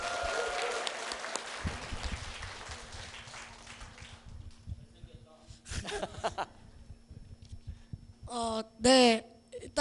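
Audience applause at a Jongno district talk concert with the mayor welcomes an elementary school student speaker, fading out after a few seconds into a quiet room with scattered noises, then a voice over a microphone.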